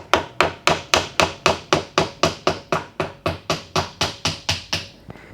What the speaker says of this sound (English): don't criticize if I'm banging it with a hammer